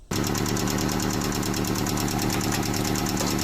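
Close, steady idle of a Mazda engine whose clogged hydraulic lifters tick rapidly and evenly above the low running drone, starting abruptly and holding constant with no talk.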